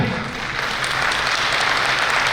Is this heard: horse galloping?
no